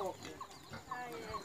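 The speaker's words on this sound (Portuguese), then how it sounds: "Olha o galo." Chickens and a rooster in a backyard farmyard give soft, scattered clucks and short calls, fairly quiet and at a middle distance, with a steady faint background hum.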